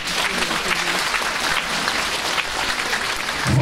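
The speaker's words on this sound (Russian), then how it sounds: "Аплодисменты." An indoor audience at an awards ceremony for the best decorative and applied arts craftsman at a town cultural centre in Kotelnich, Russia, claps in sustained, even applause from start to finish.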